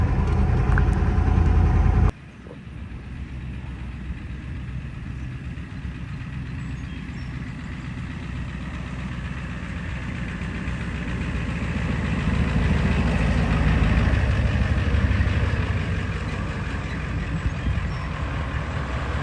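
A 1991 Ford F350 crew cab pickup with a five-speed manual idles rough and loud nearby, a deep steady rumble that swells slightly midway, after a brief louder burst at the start.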